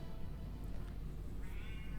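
A cat meows close by in an indoor room, a short plaintive call rising near the end over steady low background hum, with no talking.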